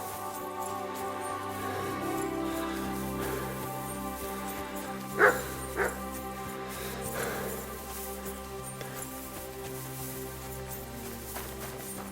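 The dog Mutt in Kingdom Come: Deliverance II gives a single sharp bark and then a shorter second one, moderately close, over continuous game ambience and music.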